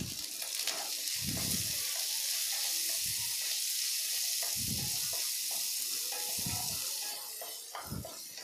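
Chicken curry masala sautéing in a pan after salt goes in, a steady close sizzle and hiss of frying with repeated soft stirring scrapes every second or so, no voices.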